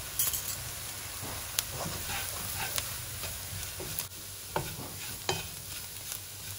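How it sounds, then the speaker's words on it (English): Two tablespoons of plain flour cook in a pan for a katsu curry sauce, a low sizzle under scraping stir strokes, with a few louder clinks of the utensil against the pan. "Now goes in 2 tablespoons of plain flour, and I'm just going to cook this for another minute."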